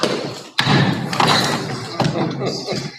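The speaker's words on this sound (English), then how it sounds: "Bang the gavel." A gavel strikes once with a sharp, loud thud to adjourn a board meeting, followed by a second softer knock, while people talk throughout.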